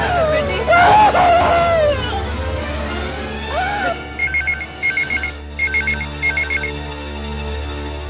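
A telephone rings in repeated short double bursts, clear and fairly close, following agitated overlapping voices with a rising wail.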